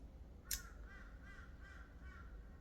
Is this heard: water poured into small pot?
no